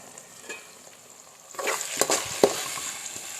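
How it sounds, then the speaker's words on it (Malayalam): Onions sautéing in a pan and being stirred gently; a quiet sizzle turns louder halfway through, with several sharp scraping strokes of the spoon against the pan and no voices. "നമുക്ക് ജസ്റ്റ് മെല്ലെ ഇളക്കി കൊടുക്കാവേ"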